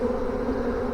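Close, unbroken hum of a honey bee swarm gathering around a trap, a brief steady buzz with no voices.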